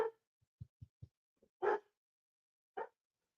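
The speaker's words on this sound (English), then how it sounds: "Sorry about the dogs." Several dogs bark in short separate bursts, a few low woofs followed by two louder, sharper barks spaced apart, fairly close with quiet between them.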